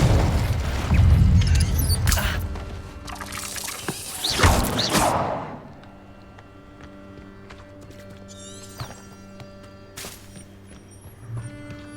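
A Confringo fire-blast spell is cast in Hogwarts Legacy, a loud whooshing burst and booming impact near the start, then quieter humming ambience with a few later magical flares.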